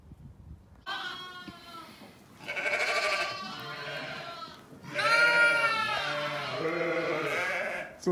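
Several sheep and lambs on a dairy sheep farm bleat loudly and close by in overlapping, wavering calls, with a few short pauses between bursts.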